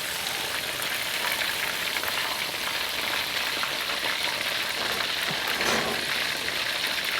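Sesame chicken fries in hot oil, a dense, steady sizzle and crackle that stays loud and close throughout with no talking.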